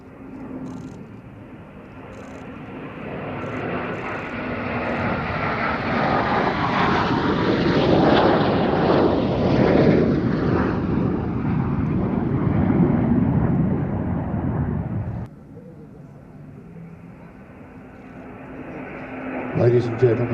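Propeller aircraft flying past in missing man formation at the Midlands Air Festival 2024, engine drone building from afar to a loud overhead roar, then fading away.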